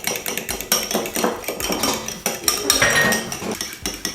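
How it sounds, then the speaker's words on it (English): A whisk beats an egg into creamed butter and sugar in a bowl, with rapid, steady metallic clinks and scrapes against the side, close and fairly loud. "now we're going to whisk out that 1 egg"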